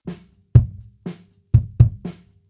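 Six deep, punchy kick drum hits recorded close through a Shure kick microphone, each with a boomy low thump and short decay, in an uneven pattern with no talking.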